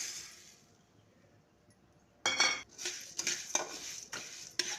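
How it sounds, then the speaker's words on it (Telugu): Rice, cinnamon, cloves, cardamom and coriander seeds dry roast in a pan: a near-silent start, then a run of loud spatula scrapes and light clinks against the metal in an irregular rhythm. "ధనియాలు కూడా త్వరగా వేయించుకోవాలి"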